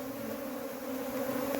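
A honey bee swarm buzzes during a hive cut-out from an old tree stump, a steady close hum of many wings that holds level and continuous.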